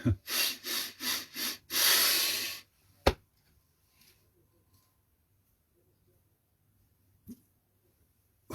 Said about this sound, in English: So we'll do that birthday breathing one more time